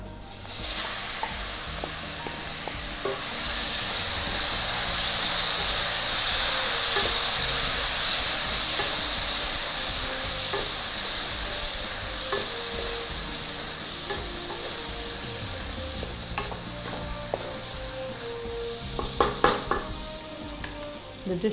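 Fried tempering with curry leaves in oil is tipped into poha for aval upma, raising a loud close sizzle and steamy hiss that swells, then settles into steady frying with scattered stirring clinks toward the end.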